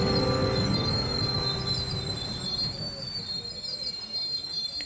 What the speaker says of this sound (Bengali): ট্রেন থামল।